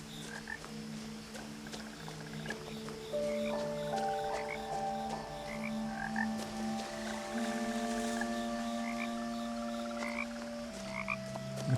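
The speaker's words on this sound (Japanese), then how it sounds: "めっちゃカエル鳴いてんな。" Frogs croak steadily in the nighttime ambience of the video game What Remains of Edith Finch, a dense, continuous chorus of calls layered over sustained music tones, with no voices.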